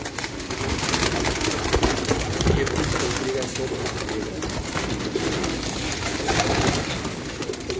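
Pigeons coo softly amid a dense, noisy background with rustling and broadband hiss.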